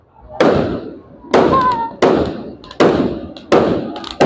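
Five heavy fireworks bursts boom out at roughly even intervals in a Philippine street setting, each a loud close blast fading into a rumbling tail.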